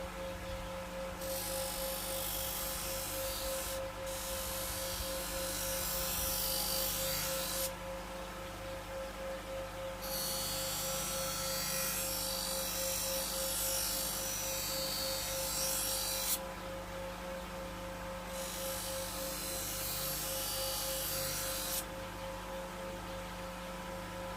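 A Zembil sharpening machine hones a knife edge on its felt wheel: a steady motor hum runs throughout while bursts of bright rasping hiss come and go as the blade is pressed on and lifted off.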